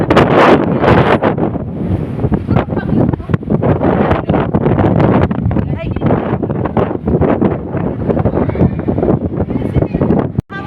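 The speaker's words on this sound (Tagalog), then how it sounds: "ang lakas ng hangin" Strong wind roars and buffets the microphone continuously, a loud rushing blast with voices talking underneath.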